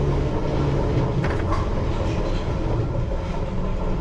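A London Underground Piccadilly line train pulls out of the platform on the Northfields to Earls Court run, heard from on board as a loud, continuous rumble and rattle with no voices.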